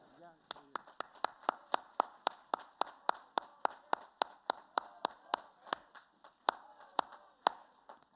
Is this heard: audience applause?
yes